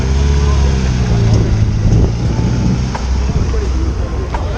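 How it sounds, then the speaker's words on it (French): A Porsche 991 GT3 engine roars at a car meet, a loud, rumbling idle and rev with wind buffeting the microphone, close and steady. "la 991 GT3. Il fait quand même un beau bruit, hein."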